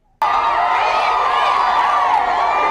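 Crowd of supporters outside shouting and cheering together at a political gathering, a loud, dense, sustained roar of voices that starts abruptly and holds steady throughout.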